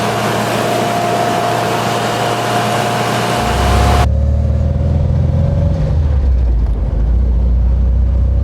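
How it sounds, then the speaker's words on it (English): An MGB sports car engine on an open road, a steady loud engine drone that shifts partway through into a deeper, heavier revving roar as the car pulls harder, with no voices. "Let's get some work out of this engine of mine."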